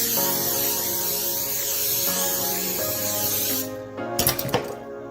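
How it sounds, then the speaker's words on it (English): A steady, loud hiss of an aerosol cooking spray can spraying parchment paper, running continuously for several seconds before cutting off into a few short clicks and taps. "I'm going to spray the parchment paper as well with cooking spray."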